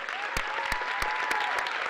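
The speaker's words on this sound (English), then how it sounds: "let's give a round of applause for Shane Duffy and, of course, Callie Moore" Audience applause for scholarship recipients at a community scholarship night, a dense crowd of clapping with a few loud nearby claps standing out, a faint tone running underneath.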